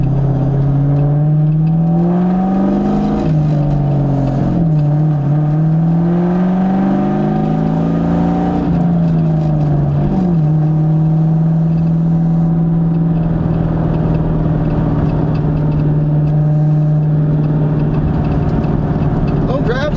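A 2000 Ford Mustang GT with a stiff high-performance clutch revs loudly while speed shifting, its engine note rising, dropping and rising again through gear changes before holding a steady drone, with a voice talking over it.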